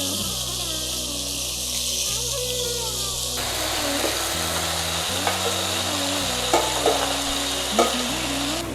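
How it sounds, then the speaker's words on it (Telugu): Soya chunks lightly frying in hot rice bran oil in a pan, a steady, close crackling sizzle with occasional stirring clinks and a faint voice in the background. "ఇప్పుడు మనం ఆయిల్ వేడెక్కాక ఇప్పుడు ఈ సోయా చంక్స్ని మనం లైట్గా ఫ్రై చేసుకోవాలి."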